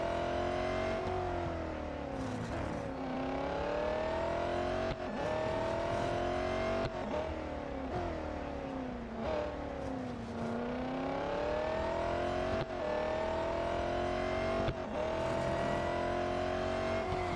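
Race car engine in the video game Real Racing 3, a steady droning whine that rises and falls in repeated sweeps as the car revs and turns, continuous with no pauses.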